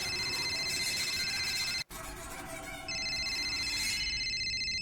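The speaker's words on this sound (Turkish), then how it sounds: "Telefon çalıyor." A telephone rings on and off in a quiet room with steady electronic tones, briefly cut once partway through; no one speaks during it.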